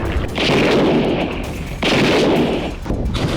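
Gunfire plays from a Hezbollah attack video showing rockets fired at Israeli border towers and command centers: loud, dense bursts of shots and booms in two sustained volleys with a brief gap between, no talk.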